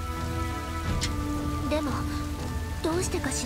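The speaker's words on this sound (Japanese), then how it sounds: "この雨すごく嫌な気持ちにさせる。" Rain in the video game Dynasty Warriors 8, a dense, steady hiss that runs the whole time beneath a sustained musical drone, while a voice speaks over it.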